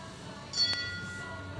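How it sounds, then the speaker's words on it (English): A single bell rings out at a horse show jumping class to signal the next rider, one brief bright tone over quiet arena ambience. "The bell sounds for the first of 4 riders remaining."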